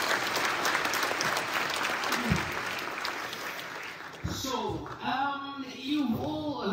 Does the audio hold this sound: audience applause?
yes